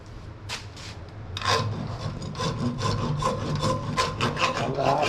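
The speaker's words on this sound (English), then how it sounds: "You can use a file." A hand file works over hardened body filler in repeated close rasping strokes that grow louder and faster, with no talk.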